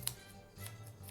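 Scissors snip close by, trimming a yarn pom pom in a few quick, crisp cuts in a quiet room.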